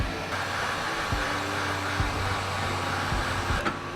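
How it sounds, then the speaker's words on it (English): A heat gun set at 450 blows hot air with a loud, steady whooshing roar close by, during a bumper installation, continuous with faint knocks in the background. "we're gonna use the heat gun now. We got this shit set at 450"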